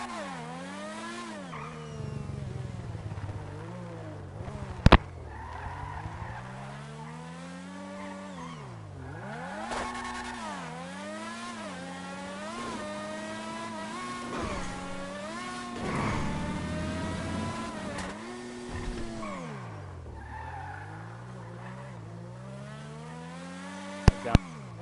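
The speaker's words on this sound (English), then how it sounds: "That thing just makes your car spin." A video-game car on a custom GTA race track spins out, its engine rising and falling in repeated revving sweeps with tire squeal, a couple of sharp impact clicks breaking the steady engine tone.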